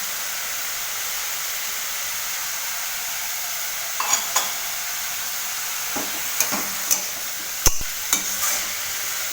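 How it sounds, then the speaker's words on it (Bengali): Grated papaya chechki with salt and turmeric is stirred dry in a karai without water. A faint steady sizzle runs throughout, broken by a few sharp spatula scrapes and clicks in the second half. "জল দেব না, এরমভাবেই আমি কড়াইতে নাড়বো"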